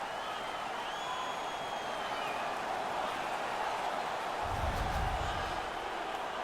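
Home crowd at a 1975-76 NHL ice hockey game between the Kansas City Scouts and Los Angeles Kings roars in a steady, dense wash of cheering and applause, swelling with a deep rumble near the end.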